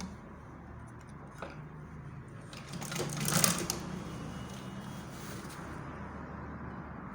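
Close by, a sewing machine stitches a lined balloon sleeve into place, its quiet mechanical whir rising briefly into a denser burst midway before settling back to a low hum.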